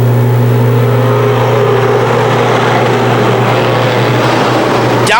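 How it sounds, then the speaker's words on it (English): A pack of 25 sportsman race cars roars away at the green flag start at Can-Am Speedway, their engines a loud, dense, continuous drone that rises in pitch as they accelerate, with no voices over it. "25 lightning fast sportsman cars called out for the green flag"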